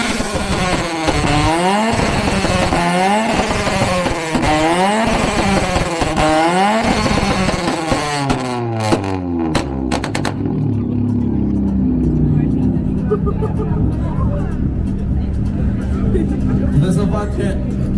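A car with a loud aftermarket exhaust revs hard again and again at a loudest-exhaust competition at the Cernavoda car show, sharp rising and falling roars in quick succession that give way to a lower, rough idle, with crowd chatter underneath.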